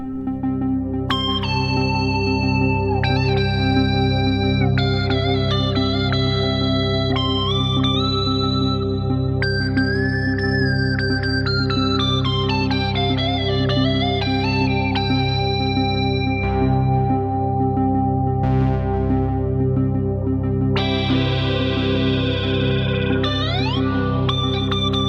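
Boss SY-1 guitar synthesizer playing a loud, sustained lead pitched an octave up, sliding and bending above the normal guitar register over a steady droning bass, with brief gaps and a rising sweep near the end.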